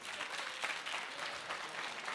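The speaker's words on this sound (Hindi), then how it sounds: "बीच में ताली बजा रहे थे क्या?" Applause from a studio audience on a televised debate show rolls on as a dense, continuous wash of many hands clapping, faint and distant, with no clear individual claps.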